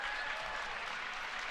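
An audience breaks into dense, steady applause, a continuous bright wash of many hands clapping at even loudness with no voices standing out.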